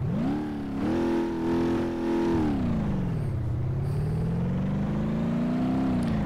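A game car in BeamNG.Drive revs hard and drifts, its engine note climbing, dipping sharply, then rising again in a loud, steady, close-up whine with rumbling undertone.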